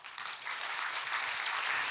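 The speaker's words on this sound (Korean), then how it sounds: "박수 한번 하십시다." A church congregation applauds during a Sunday sermon, a short burst of dense, even clapping from many hands filling the room, with no speech over it.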